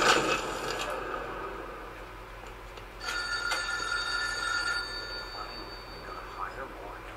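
Telephone ringing in The Godfather 2, a bright electronic bell tone repeating in short bursts over a low background hum, with a voice talking faintly in the mix.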